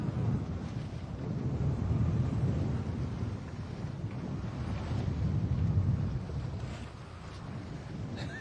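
Strong wind of about 20 knots buffets a boat at anchor, a low, rumbling roar that swells and eases in gusts against the microphone, fairly loud and steady, with no voices.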